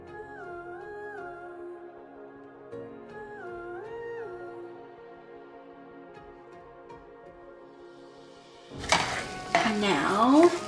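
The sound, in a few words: ground turkey with taco seasoning sizzling, being stirred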